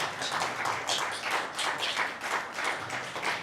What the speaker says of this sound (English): Can you give a big hand clap for the presenters?